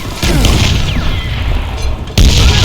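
Loud, close explosion in Call of Juarez: Gunslinger: a heavy blast that rumbles on, then a second sharp boom near the end.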